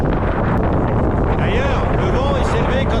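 Strong wind buffets the microphone in an arid desert during a storm, a loud, continuous roaring rush that lasts the whole moment, with a voice faintly audible beneath it.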